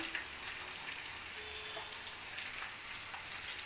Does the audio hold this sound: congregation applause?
no